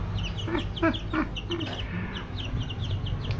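Baby chickens cheep and cluck in a steady scatter of short, high calls over a low rumbling background, close and moderately loud.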